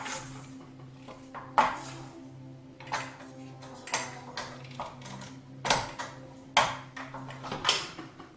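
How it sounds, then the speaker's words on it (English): A bench scraper scrapes down the sides and bottom of a mixing bowl of sourdough bread dough, giving a string of short, irregular scraping knocks over a low steady hum, with no voices. "using the bench scraper, scrape down the sides of the bowl, trying also to scrape right down the bottom of the bowl"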